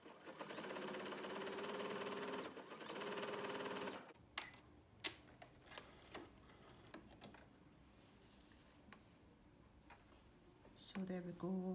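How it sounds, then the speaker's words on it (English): A sewing machine runs a small zigzag stitch along the top of layered fabric bunting, a fast steady mechanical whirring burst for several seconds, then stops to scattered clicks and handling noises, with a voice talking nearby, before briefly starting again. "I'm just stitching along the top, catching in the layers"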